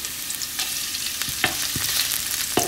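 Garlic frying in oil for balbacua gives a steady crackling sizzle, punctuated by several sharp clacks of a utensil against the pan.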